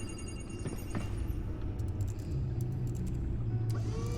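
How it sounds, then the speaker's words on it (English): A loud car engine from a video game rumbles steadily and close throughout, with no one talking over it. "that car is like really fucking loud"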